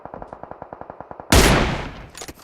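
A rapid automatic burst of gunfire in the mobile battle-royale game PUBG Mobile, a steady rattle of evenly spaced shots, then a loud close blast that decays into scattered follow-up shots.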